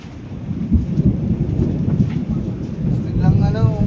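Heavy rain roars steadily with gusty wind noise during a typhoon, a dense broadband wash that swells louder near the end.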